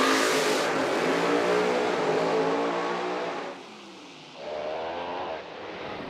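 A Chevrolet drag racing car roars down the strip at Bradenton Motorsports Park during the US Street Nationals, a loud sustained engine wail that dips, then surges back on and off the power.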